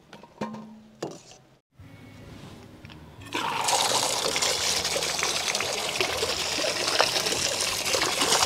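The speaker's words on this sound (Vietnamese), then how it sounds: "Lúc này mình rửa cho nó sạch lại ha" Pork bones being rinsed under running water: a few clunks and handling noises give way to a loud, steady gush of tap water that continues to the end.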